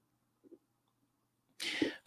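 A single short sneeze bursts out near the end, close and sharp after a near-silent stretch with a faint breath or murmur.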